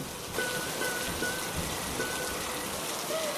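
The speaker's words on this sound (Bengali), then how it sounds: "তখনই বৃষ্টি শুরু হয়।" Rain begins as a cartoon sound effect, a dense steady hiss of falling drops with no voices, holding evenly at moderate level throughout.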